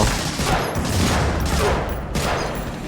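M1 Garand rifle fire in the PS2 game Medal of Honor: Frontline: dense, overlapping gunshots and distant booms run loud and continuous throughout, with no talking.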